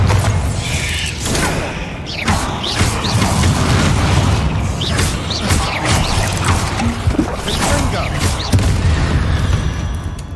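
Bombarda blasting spell booming through a room in Hogwarts Legacy, repeated heavy explosions and crashing debris amid ongoing battle clatter and mechanical noise, loud and dense throughout, with spell-casting voices mixed in.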